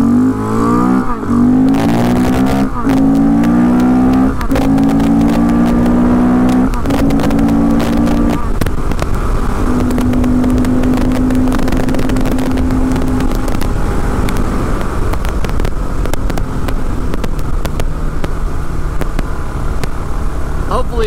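A KTM 690 Enduro R motorcycle engine revs in several sharp bursts, pitch climbing and falling, then settles into a steady loud drone, close by.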